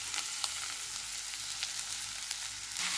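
Vegetables frying in a hot pan, a steady broadband sizzle with soft scraping stir strokes breaking through now and then; close and moderately loud, with no voices.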